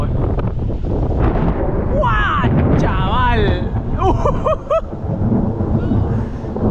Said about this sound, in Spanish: Ojito con el relámpago, ¿eh?